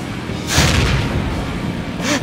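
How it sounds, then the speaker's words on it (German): In the video game Ride to Hell: Retribution, a motorcycle explodes in a loud, close boom with a rushing burst, and a second whooshing blast follows near the end. "Ich weiß keine Ahnung, warum diese Motorräder explodieren"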